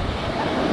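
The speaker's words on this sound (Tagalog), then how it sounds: "So medyo may kalakasan yung alon." Strong ocean waves roll in at a clear-water beach, giving a dense, steady wash of surf and wind noise with no break.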